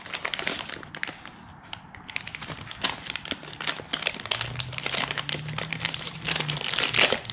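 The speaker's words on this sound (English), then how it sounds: "It's like a bit of a childproof package. There we go, just tear the guts out of it." GoPro accessory package being torn open, with dense, close crinkling and ripping of stiff plastic packaging continuing throughout and no talking.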